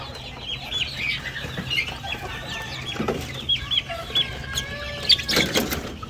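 Several chicks and young chickens cluck and chatter close by, with occasional louder squawks and a rooster-like call near the end, over steady farmyard background noise.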